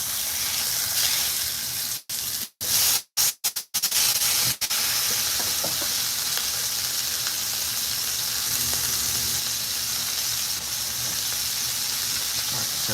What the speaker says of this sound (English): Alright, let's give those another flip.